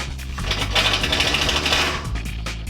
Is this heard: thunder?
no